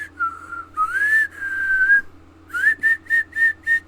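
A human-like whistle resembling a bird: a long wavering tone with a rising slide, then a brief pause and a run of five short evenly spaced chirps, clear and alone over a low steady hum.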